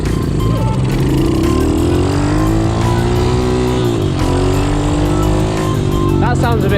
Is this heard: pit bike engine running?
yes